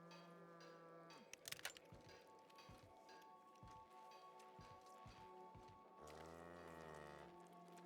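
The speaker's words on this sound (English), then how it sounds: "Why do we have cows?" Cows moo repeatedly in The Outer Worlds game world, their low drawn-out calls standing out clearly over a steady musical score, with a louder, longer moo near the end.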